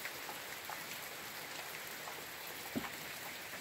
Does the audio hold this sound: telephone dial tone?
no